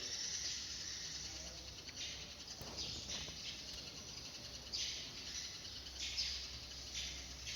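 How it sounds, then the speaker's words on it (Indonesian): Faint birds call in the distance over a steady, high chirring of insects, with no voices. "Ini terdengar suara-suara burung."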